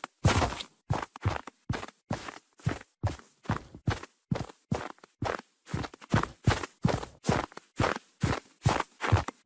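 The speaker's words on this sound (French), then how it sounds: "il s'agit des bruits de pas dans de la neige" Footsteps crunch through snow in the video game Fortnite, a steady run of about twenty crisp, close treads with no talk over them.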